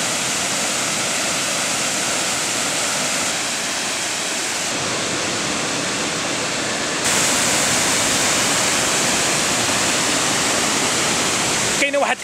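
Ouzoud waterfalls in Morocco pour in a loud, steady roar of rushing water that fills the whole scene without a break, with a brief extra splash near the end.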